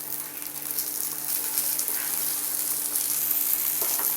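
Mushroom masala sizzles on a dosa roasting on a hot griddle, giving a continuous, fairly loud frying hiss with light crackles and no voices.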